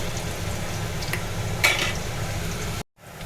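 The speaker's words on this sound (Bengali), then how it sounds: "আমি আলুগুলো ভেজে নিচ্ছি লবণ আর একটু মরিচের গুঁড়ো দিয়ে" Potatoes frying in oil with salt and chili powder give off a steady, even sizzle at moderate level, with a faint clatter partway through and a sudden brief dropout near the end.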